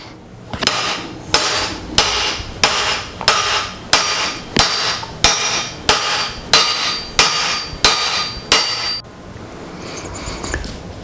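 Hammer striking a crank timing gear to drive it on during engine assembly: about a dozen sharp metallic blows at a steady rhythm roughly every 0.7 seconds, loud and close, then stopping.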